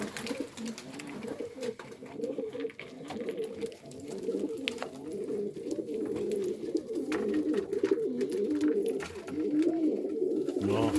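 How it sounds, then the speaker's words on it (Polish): A racing pigeon, the morning after a 783 km marathon race, coos in repeated low throaty rolls, close and moderately quiet, with light rustling and small knocks around it. "To jest gołąb klasa."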